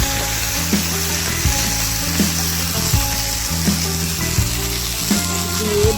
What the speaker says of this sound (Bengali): সব সবজি দিয়ে 5-7 মিনিট ভালো করে নেড়ে নেব